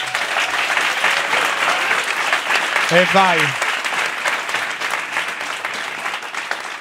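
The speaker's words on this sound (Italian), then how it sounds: "Applauso." A studio audience claps loudly and continuously at the opening of an Italian talk show, with a brief spoken exclamation cutting through the middle of the applause.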